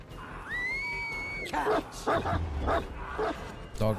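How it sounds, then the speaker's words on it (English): The Houndmaster's dog in the horror game Dead by Daylight lets out several sharp barks and yips in quick succession after a rising whine, heard close over game noise and someone talking. "Dog got stuck."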